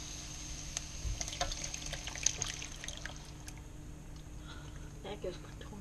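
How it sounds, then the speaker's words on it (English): Canned tomatoes pour into a cooking pot for rigatoni and meatballs, a soft, wet glugging and splashing in the first few seconds that trails off into quiet kitchen clatter, with people talking nearby. "We're gonna go ahead and pour in the tomatoes now."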